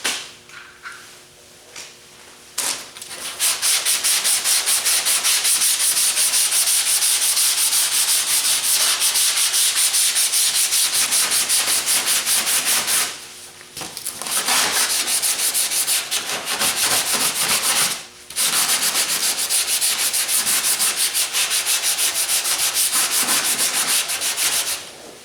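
Long, steady strokes of sanding Slick Sand filler on the roof of a 1977 Camaro Z28, a loud, close rasping rub that continues almost without break, with two short pauses.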